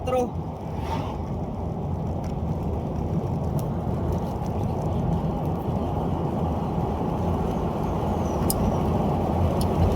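A Nissan X-Trail engine pulls at high RPM while driving, a steady, loud, low drone with road noise that holds without a break from start to finish.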